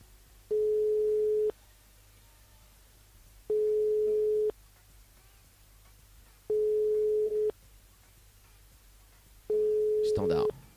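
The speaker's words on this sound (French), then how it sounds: "Il y a des sonneries." Telephone ringing tones sound during a call: four evenly spaced one-second beeps, each followed by a two-second gap. A low background hum runs underneath, and a brief noisy burst overlaps the last tone.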